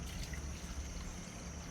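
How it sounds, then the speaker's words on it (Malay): Water poured from a container into a vessel, about a litre, a soft steady splashing trickle over a low background rumble with no one speaking. "Setara ni kita bubuh air 1 liter nah."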